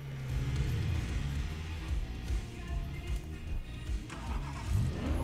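A car engine in the video game It Takes Two rumbles low and revs in uneven surges, fairly close and continuous.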